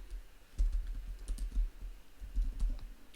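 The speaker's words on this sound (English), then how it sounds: "I'm just gonna type in strawberries here," Typing on a computer keyboard: a soft, irregular patter of close keystrokes in quick clusters, with no voices.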